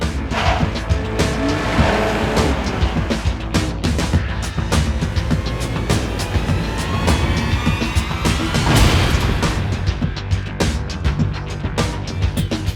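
2018 BMW M240i coupe being driven hard, engine roaring continuously with gear changes, rising revs and tire noise, loud and close throughout with no talking.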